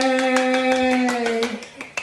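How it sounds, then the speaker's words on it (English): Two people clapping for each other in a short burst of scattered hand claps, sounding close and overlapping a sustained tonal hum, with the claps thinning out toward the end. "They're literally both sitting there and applauding one another for being so big."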